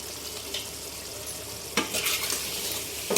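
Chicken with spices, biryani masala and kewra water being sautéed for chicken biryani in a pan, a steady close sizzle with occasional louder scraping stirs near the end.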